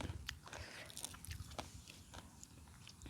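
Someone chews Lao-style pounded salad, with quiet, close crunching and chewing bites scattered through a few seconds and no talking.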